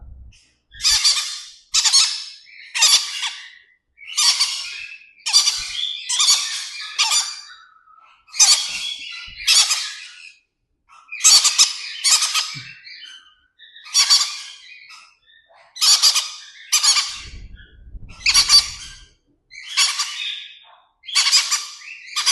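Birds squawk close by in repeated harsh, shrill bursts, one after another with short pauses between, loud and unaccompanied by talk.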